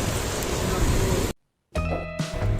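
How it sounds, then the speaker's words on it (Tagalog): Heavy rain pours down hard at a roadside Shell station near Carmona, a loud dense hiss that cuts out briefly and then returns while a voice speaks over it. "Grabe lakas ang ulan."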